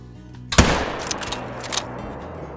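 A single loud Malmer 7mm rifle shot cracks sharply in the Call of the Wild hunting game, followed by a long rolling echo that fades slowly over the next two seconds.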